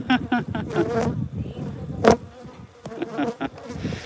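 Honey bees buzz close around a beehive during a midwinter inspection, a steady droning hum with sharp passes near the ear, a brief voice breaking in.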